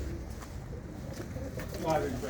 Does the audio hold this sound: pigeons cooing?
yes